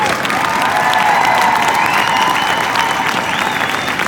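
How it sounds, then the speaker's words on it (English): A large audience at a speaking event bursts into loud, sustained applause mixed with cheering voices and whoops, a steady dense clatter of clapping that carries on for several seconds. "One more round of applause, please."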